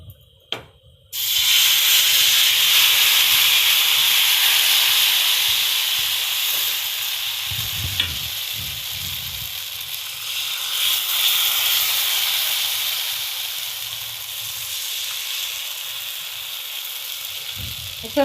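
Ghavan rice batter hitting a hot pan and sizzling: a sudden loud hiss starts and holds steady, slowly easing over many seconds, with faint low voices murmuring underneath.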